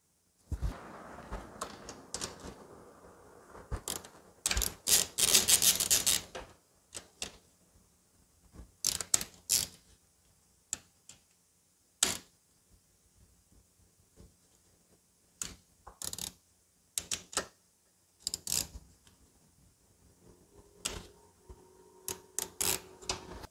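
Metal tool clicking and ticking while valve clearance is set on a Pulsar 200 NS motorcycle engine, sharp isolated taps in irregular bursts with quiet gaps, close and crisp.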